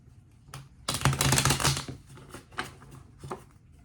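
Tarot cards are shuffled in quick riffling bursts, a crisp flurry of flapping and snapping close by, followed by a few shorter taps and shuffles.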